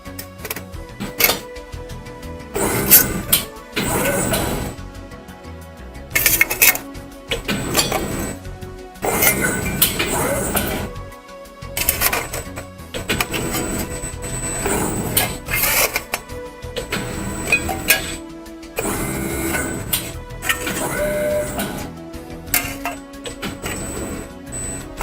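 A SAFAN precision press brake works through a bending cycle, giving a series of mechanical clunks, clinks and whirring strokes spaced across the span at moderate loudness, with no talk.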